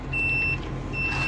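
A crane lorry with its PTO engaged, heard from inside the cab, gives off high repeating beeps or ticks over a steady low engine drone.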